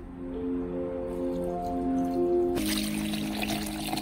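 Water trickles and splashes continuously into a container while being poured, a steady close pour that turns into a brighter, fuller splash partway through, with no one talking.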